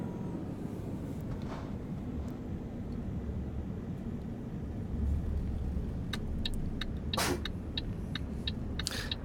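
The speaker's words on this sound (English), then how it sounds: "We'll soon be out on the open road. Cruising along in the Mercedes Actos." Mercedes Actros truck driving in Euro Truck Simulator 2, a steady engine and road drone running throughout with a brief swell midway and scattered faint clicks and ticks on top, no talking.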